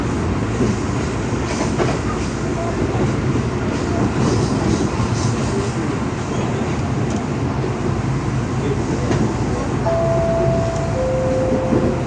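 A KRL commuter train rolls on from Jatinegara station, a continuous rumble with rhythmic wheel clatter heard from inside the carriage, steady and fairly loud throughout, with a brief tone near the end.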